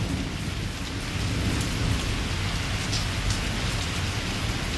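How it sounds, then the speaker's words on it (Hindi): Torrential rain in Islamabad pours down in a dense, steady hiss, with a deep rolling rumble of thunder underneath. "इतनी तूफ़ानी बारिश है,"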